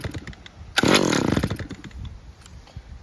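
A Stihl petrol trimmer's small two-stroke engine catches with a sudden sharp burst and revs raggedly for about a second, then sputters down into uneven idling, with faint clicks and handling noises around it.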